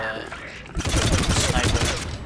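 Dense, rapid volley of assault rifle fire in Mass Effect 3 erupts after a quieter start and keeps hammering loudly to the end, shots blurring into a continuous rattle.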